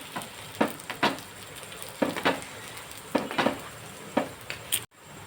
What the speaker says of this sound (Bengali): এবার এইটা একটু চেপে চেপে ভাজতে হবে।